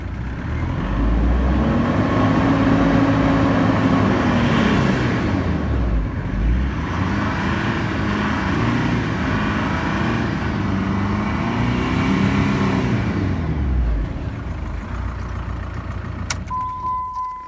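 A Jeep Cherokee KJ 2.5 CRD diesel idling close by after a fuel filter change, with several rising and falling revs of the engine over a steady idle, ending with a short beep.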